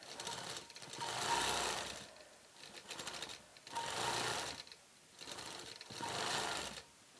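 A quilting machine stitching a tree-branch quilt design, its fast motor buzz rising and falling in four bursts separated by brief pauses, close and fairly quiet, without talk.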